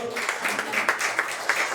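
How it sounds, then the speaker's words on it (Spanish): A church congregation applauds together, a brief burst of steady clapping with a few sharper claps and voices mixed in. "Denle un fuerte aplauso."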